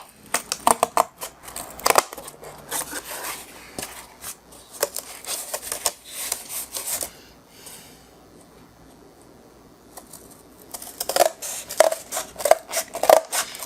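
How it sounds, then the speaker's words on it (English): A larger pair of scissors cuts through craft material in bursts of crisp snips and rustling, pausing for a stretch midway before the snipping resumes close by. "I got a little bigger pair of scissors here that'll help me get through this."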